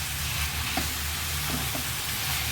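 Liver sizzles in a pan with onions, green and red peppers, garlic and spices, a steady close frying hiss with faint stirring clicks and no talk.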